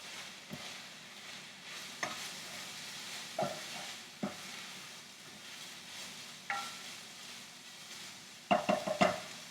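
Cauliflower fried rice with pork stir-fries in a pan with a low, steady sizzle, broken by sharp scraping and clacking strokes of a utensil and a quick burst of knocks near the end.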